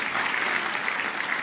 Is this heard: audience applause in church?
yes